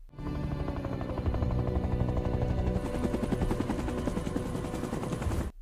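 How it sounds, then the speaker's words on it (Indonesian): A helicopter comes in to land in a film scene, its rotor producing a loud, steady chopping drone that grows fuller midway and then cuts off abruptly. "Dan helikopter pun mulai melakukan pendaratan."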